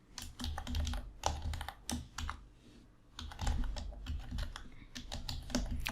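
Close, steady computer-keyboard typing while filling in a web form's name and email fields, with irregular clicking bursts and short pauses, no talking.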